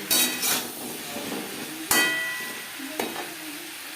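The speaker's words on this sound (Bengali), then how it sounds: "আলুর সাথে ডাটা দু মিনিট নাড়াচাড়া করে নেওয়ার পর" Potatoes and drumsticks stirred and fried together in a pan for a fish curry, loud scraping stirs and clanks over a continuous sizzle, with sharp utensil hits marking each pass.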